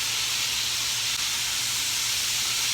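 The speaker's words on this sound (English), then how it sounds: "You hear that nice roar from that grease boiling off that flour in there." Grease roars loudly as floured deer cube steaks fry in a pan, a dense, steady hiss that holds unbroken and close throughout.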